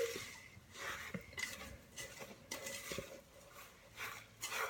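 A spoon scraping and knocking against a bowl as a garlic chicken rissole mixture is mixed, with soft clinks and irregular scrapes, close but faint.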